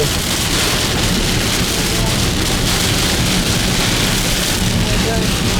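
Heavy rain pounds a car driving near Subic in the Philippines, a loud, constant roar of water with low engine rumble beneath it, filling the whole stretch without a break.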